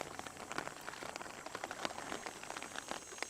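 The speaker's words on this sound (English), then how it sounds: "It's raining like out there right now." Rain falls outdoors in a rainforest, heard as a faint, steady patter of scattered drops tapping on nearby surfaces, with no voices.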